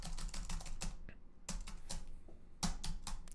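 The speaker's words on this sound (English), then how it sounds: "I'm typing on my keyboard, but you don't see that coming through." Rapid clicking of computer keyboard keys being typed in bursts at a PowerShell window on a kiosk PC, close and fairly loud, with short pauses between runs of keystrokes and no talking.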